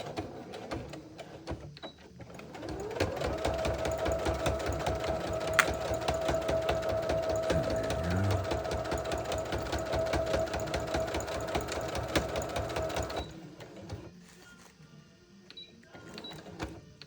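A sewing machine stitches back and forth over vinyl bag handles in a rapid, even mechanical chatter that runs steadily for about ten seconds, close up, then stops, with lighter clicks of handling after.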